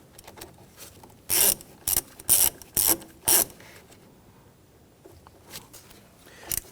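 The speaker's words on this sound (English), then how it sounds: "Snug down the securing nut here." Ratchet wrench tightening the battery terminal securing nut on a 2011–2015 Kia Sorento, five loud raspy clicking strokes in quick succession, then quieter handling noises.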